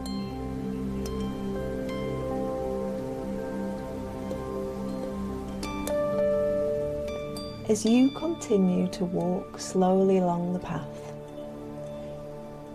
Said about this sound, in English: feeling the rain falling on your arms, on your face, on your hair